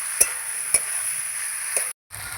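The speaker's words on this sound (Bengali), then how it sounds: "এবার আমি নাড়তে থাকবো আর মশলার সঙ্গে কষাতে থাকবো" Taro stolons being stirred and fried with spices in a pan, a steady close sizzle broken by three sharp spoon-against-pan knocks and a brief cut to silence near the end.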